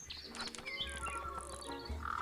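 Birds chirp and tweet among the fancy birdcages of the puzzle adventure game Tangle Tower, with bright, scattered calls over soft game music.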